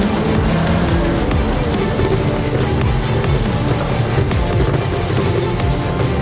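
Race cars battle for position on a circuit, a dense continuous engine roar close by with overlapping motors, steady and loud throughout with no talking.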